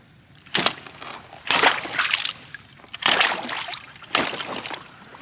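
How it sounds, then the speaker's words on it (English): Water splashes in four distinct bursts roughly a second apart, each a loud, close slosh and spatter during farm work breaking ice free from a float, with quieter gaps between them. "it's going to splash on him"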